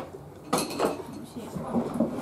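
Plates and cutlery clink and clatter at a dining table during a meal, a few sharp close knocks among background chatter, with people talking over them.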